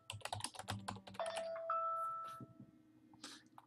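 Someone types a short search name on a computer keyboard in real-estate listing software, with a quick burst of crisp, close key clicks followed by a sustained electronic tone and a few more taps, fairly quiet with no speech.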